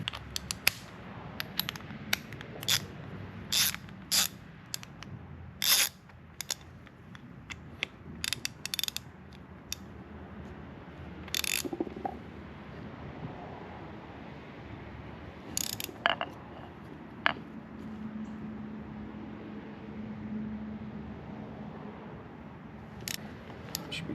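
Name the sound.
torque wrench ratcheting, installing a steering shaft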